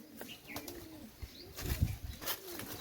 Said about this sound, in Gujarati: જો આ કૂવો, જો આમાં કબૂતરા બેઠા